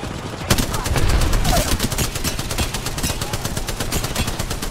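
Rapid automatic gunfire from a first-person shooter video game rattles in a dense, continuous burst, loud and close, with no speech over it.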